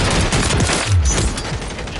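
Rapid bursts of automatic gunfire in the video game Modern Warfare 3, a dense, loud fusillade of shots running continuously through the clip.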